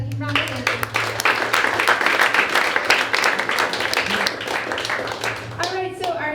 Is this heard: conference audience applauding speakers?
yes